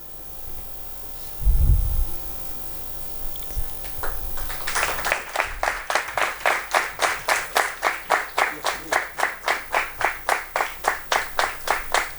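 An audience at an award ceremony for the Savitrichi Lek award breaks into applause after a few soft thumps, settling into loud, rhythmic unison clapping that keeps a steady beat to the end.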